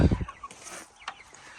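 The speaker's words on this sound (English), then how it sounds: "Here are all the meat birds." Meat chickens on a small homestead farm cluck in a short, close burst of low calls at the start, then fall to a quiet background.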